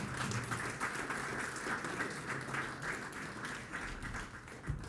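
An audience at a bank event claps together, a fairly steady patter of many hands with a soft rumble beneath and one sharp tap near the end.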